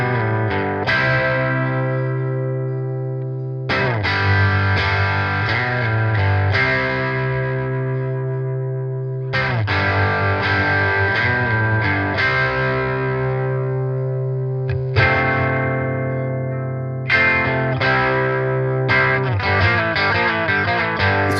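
Overdriven electric guitar plays a riff, with strummed chords ringing out and decaying between repeated phrases, loud and close with no talking.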